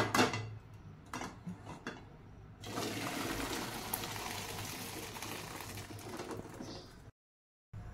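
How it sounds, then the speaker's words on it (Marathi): Hot water from boiled sweet corn poured through a kitchen strainer, a steady close splashing rush lasting several seconds after a few light clinks, with no talking. "आता हे स्वीट कॉर्न उकळलेलं जे पाणी आहे एक्स्ट्राचं ते आपण चाळणीवरती टाकून गाळून घेऊया"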